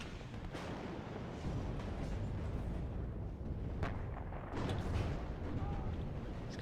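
Tank gunfire in the real-time strategy game Warno, deep booming artillery-like blasts rolling over a dense battle din, with a few sharper reports standing out, no talk.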